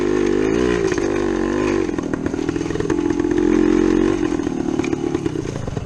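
A 1972 Yamaha DT2 motorcycle's engine runs loud and close, a buzzing two-stroke drone that rises and falls with throttle changes, revving up in the middle and settling back down.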